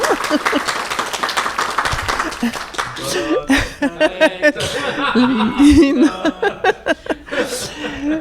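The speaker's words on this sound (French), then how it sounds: "Une main d'applaudissement." A podcast crowd marking a century-old Montreal optometry office's 100th anniversary applauds for about three seconds, a busy burst of clapping that gives way to people talking and chuckling.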